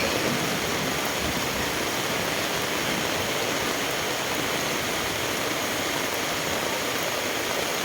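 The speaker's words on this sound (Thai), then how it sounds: "ดูน้ำไหลดูน้ำไหลค่ะดูน้ำไหล" Steady rushing rainwater flows continuously after heavy rain, a broad even wash of sound with no breaks, like heavy runoff nearby.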